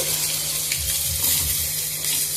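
Chopped onion sizzles and fries steadily in hot oil in a pan, cooked for a spiced egg dish; a continuous close hiss with faint stirring, no voices.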